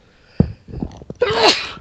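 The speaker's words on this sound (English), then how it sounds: "Excuse me, I sneezed again." A single close, loud sneeze, preceded by a quick intake of breath.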